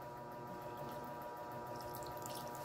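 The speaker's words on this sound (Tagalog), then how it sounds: "Lagyan natin siya ng tubig guys." Water is poured into a pan of chicken adobo made with soy sauce, giving a steady, continuous liquid splashing and trickling at close range.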